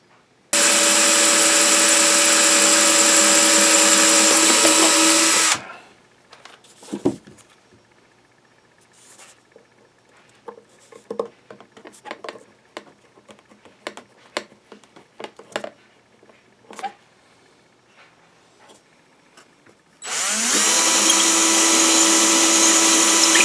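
A high-pitched power drill whines steadily for several seconds, drilling a hole in a scale model AT-ST part, followed by quiet handling clicks and taps, then the drill starts up again.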